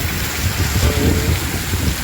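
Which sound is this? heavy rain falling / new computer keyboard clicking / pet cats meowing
heavy rain falling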